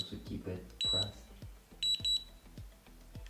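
A cordless automatic hair curler with a ceramic barrel and LCD display gives short, sharp electronic beeps in bursts, under nearby speech and handling noise.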